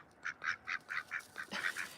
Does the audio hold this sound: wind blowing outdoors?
no